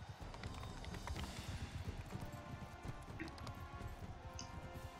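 Horse hooves clopping in the video game Mount and Blade II Bannerlord, a steady fast rhythm of soft thuds that runs the whole time, moderately quiet, with faint game ambience.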